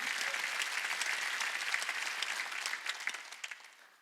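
A church congregation applauding during a Wednesday worship service at a Korean church, steady dense clapping that holds strong for several seconds before gradually thinning and fading toward the end.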